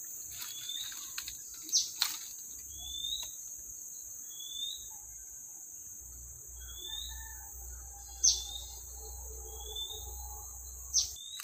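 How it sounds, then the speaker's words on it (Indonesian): Wild forest ambience with a constant high insect drone and faint, scattered short bird chirps and calls at a distance, occasional soft thumps and rustles, quiet overall with no talking. "Banyak sekali suara bunyi burung-burung liar ya."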